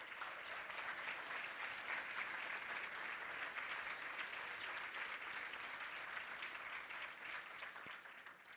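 Sustained audience applause for featured dancers at the Schools Spectacular launch, a steady wash of clapping from a large crowd that holds evenly for several seconds and thins slightly at the end.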